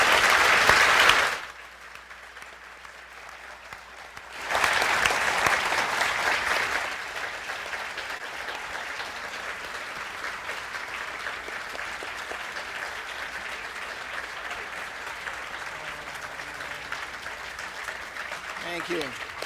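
An audience at a hotel reception applauds the speakers: bursts of dense clapping, loud at first, pausing, then swelling again before settling into steadier, lighter clapping that carries on under a voice.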